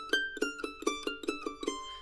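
Mandolin picking a descending scale pattern in groups of four notes on G, about nine crisp plucked notes in an even, moderate rhythm, close and clear with nothing else underneath.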